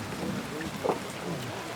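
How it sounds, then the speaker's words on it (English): A steady dense hiss of heavy rain drumming on a roof during sheep shearing in the Australian outback, with faint background murmuring. "Heavy rain during shearing."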